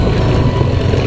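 Machinery engine running at a Pertamina oil site in a teak forest area near Blora, a loud steady low rumble with a continuous drone and no pauses.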